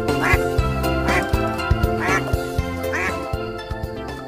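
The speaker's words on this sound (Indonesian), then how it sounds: "ini namanya bebek" A large duck quacks loudly and repeatedly in a steady rhythm, close by, with a few short sharp knocks heard alongside.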